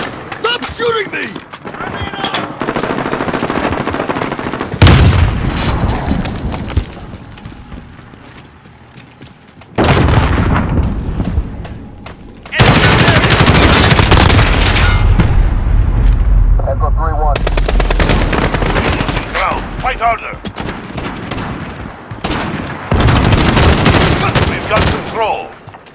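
Call of Duty: Modern Warfare gunfire, with dense, loud bursts of automatic fire and booms that come in long sustained stretches with short pauses between them.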